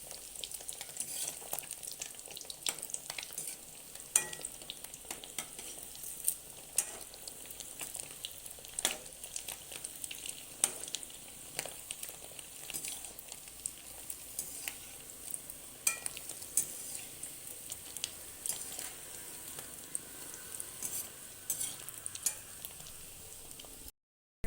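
Egg koftas frying in oil in a pan, a continuous close sizzle with light crackles and occasional spoon taps and turning sounds throughout, no talking.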